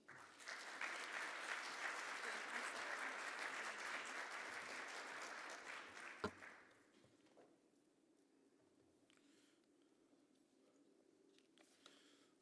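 A conference audience at a North America summit applauds steadily for about six seconds to welcome a keynote speaker to the stage, then the clapping fades into quiet room noise with a few shuffles.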